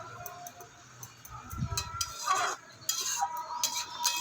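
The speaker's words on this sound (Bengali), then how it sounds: "এবারে ভালোভাবে সমস্ত কিছু আমি নাড়িয়ে ছাড়িয়ে নিচ্ছি।" Soft cooked bottle gourd (lau) is stirred in a pan with a metal spoon, producing light scraping and clinking taps in irregular bursts, close and fairly quiet.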